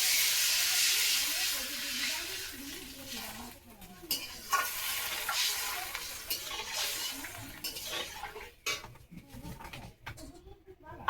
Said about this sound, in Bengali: এখন পরিমাণ মতন জলটা দিয়ে দেবো